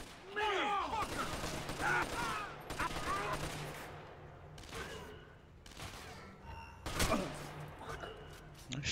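Gunfire crackles through a shooter video game in several sharp bursts and single shots, some near and loud, others more distant, mixed with mechanical clicks while voices talk over the action.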